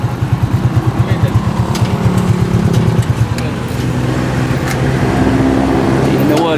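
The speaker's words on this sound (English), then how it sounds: "we're pulling into the Caltex right now to get some fuel" A car engine idles and shifts as the vehicle rolls into a Caltex gas station in Angeles City, its low rhythmic throb steady and close, with traffic noise and a voice speaking over it.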